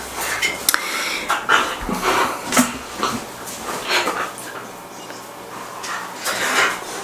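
Two dogs play together indoors, panting and scuffling with quick bursts of rustling and light knocks against furniture, close by and without speech.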